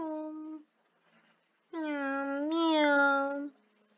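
A person's voice imitates a cat meowing in two drawn-out, harmonic calls, a short one first and then a longer rising-falling miaow after a pause, loud and close.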